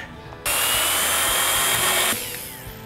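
A power drill whirs loudly and steadily for about a second and a half while drilling a hole in the hood of a 1970 Dodge Super Bee, starting abruptly and then cutting off, leaving a faint hum behind.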